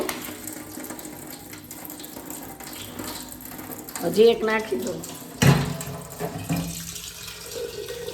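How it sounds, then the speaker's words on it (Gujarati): Tap water runs into a clay water pot until it fills and overflows, a steady rushing stream that swells partway through, with someone speaking briefly over it. "છલકાવી દેવાનું તો અત્યારે પાણી આવે છે"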